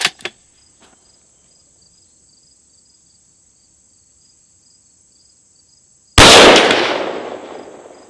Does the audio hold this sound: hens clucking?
no